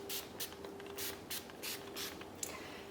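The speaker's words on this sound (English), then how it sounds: "you just spray the wax on evenly all the way around the area that you wanna seal" Repeated short bursts of spray wax onto a car door, hissing in quick irregular pulses close to the microphone over a faint steady hum.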